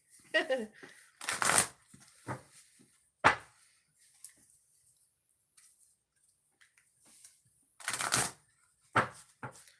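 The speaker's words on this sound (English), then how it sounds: "Two shuffles for Virgos." A deck of oracle reading cards being shuffled in bursts of riffling and slapping, with quieter gaps between, close up, and a voice speaking briefly among the shuffles.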